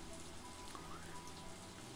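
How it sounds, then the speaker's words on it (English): Steady rain patters in the Story of Seasons farming game, a soft, even wash of drops with faint game tones, quiet and continuous without speech. "There's nothing to do when it rains."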